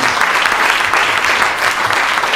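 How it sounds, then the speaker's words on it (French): A packed audience at a French-language talk on family and education breaks into dense, sustained applause, a loud and even roar of many hands clapping at once with no voices on top. "Et on peut vous applaudir sur cette conclusion."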